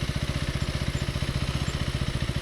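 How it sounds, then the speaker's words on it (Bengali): A motorcycle from Myanmar idles close by in Longwa village on the India–Myanmar border in Nagaland, a steady rapid low chug pulsing evenly and fairly loud with no talk over it. "এই যে বাইকটা দেখতে পাচ্ছি,"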